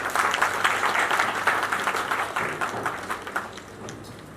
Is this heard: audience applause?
yes